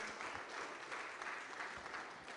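A church congregation claps during a Spanish-language worship service, a dense, continuous wash of many hands from a crowd, heard at moderate distance with no clear talk.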